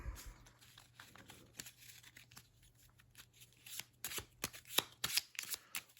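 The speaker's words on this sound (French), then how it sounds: "on reprend toutes les cartes qu'on mélange." Playing cards for the Burgle Bros board game are shuffled close up, with papery riffles and crisp slaps that grow busier and louder toward the end.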